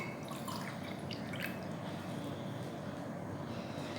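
Half a cup of water poured into a bowl to make a sauce for a crispy chicken salad, a steady close trickle and splash running throughout with no pause and no talk.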